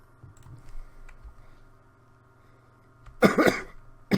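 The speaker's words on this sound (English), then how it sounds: "If you heard my coughing there, I'll be coughing a lot because I've got a stupid cold." A man with a cold lets out a short, harsh burst of coughing near the microphone after a quiet stretch of faint clicks and background hum.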